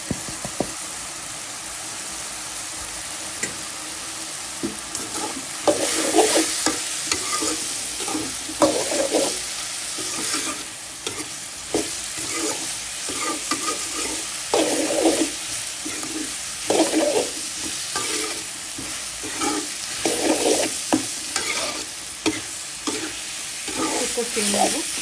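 Kachki fish with tomato, ginger, garlic and ground spices fries in a pan under a constant sizzle, broken by bursts of spatula stirring and scraping at close range.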